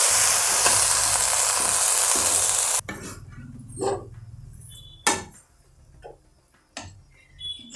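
Coriander leaves sautéing in a pan: a loud bright sizzle first, then it drops away to quieter stretches broken by several sharp clinks and scrapes of a utensil against the pan.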